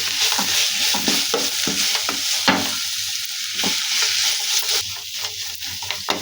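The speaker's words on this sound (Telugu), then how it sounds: "వేసుకొని అన్నీ ఒకసారి కలుపుతూ బాగా మెత్తగా ఫ్రై చేసుకోవాలి" Grated mango and carrot pulihora mixture with salt being stirred and fried in a pan, a steady close sizzle with repeated scraping of the spoon throughout.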